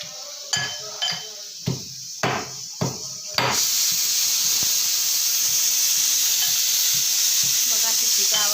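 Khandeshi thecha cooks in a pan: a few sharp knocks come first, then a loud, continuous sizzling hiss runs steadily to the end.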